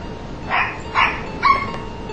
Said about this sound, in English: the dogs are barking ridiculously